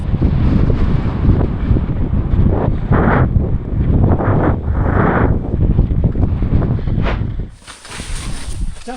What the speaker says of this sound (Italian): Certo che qua il vento Fa il suo lavoro.